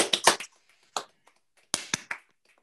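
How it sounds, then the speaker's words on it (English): A few participants in an online book launch clap after unmuting, sparse scattered claps arriving in small bursts with silent gaps between, thin and uneven rather than a full crowd. "Please, everybody, unmute and give Richard and David a clap"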